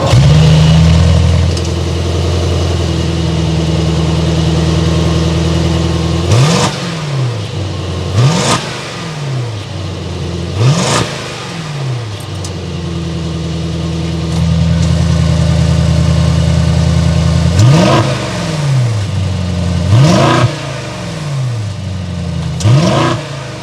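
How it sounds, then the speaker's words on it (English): A 2021 Mercedes-AMG GLS 63, a three-row twin-turbo SUV, starts and idles with a deep, loud exhaust note, broken by several sharp throttle blips that rise and fall in quick succession close by. "Let's get inside this vehicle, turn it on, and hear that exhaust note."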